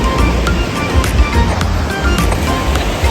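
Ocean surf at an uncrowded South Goa beach, a steady close roar of breaking waves with rhythmic surges and wind noise, loud and continuous with no voices.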